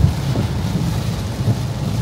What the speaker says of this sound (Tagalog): Naabutan kami ng malakas na ulan